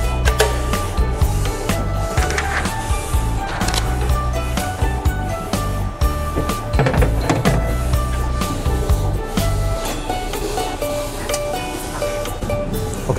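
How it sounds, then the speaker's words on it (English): An APEX 24-inch DTF large-format printer's powder shaker runs with transfer media fed in, giving a steady, loud mechanical whir and rattle throughout with scattered clicks and knocks. "now we feed the media into the shaker and apply it onto the mesh belt"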